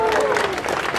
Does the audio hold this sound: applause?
yes